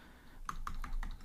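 A computer keyboard is typed on in about five quick, crisp keystrokes, close and clear, with nothing else heard.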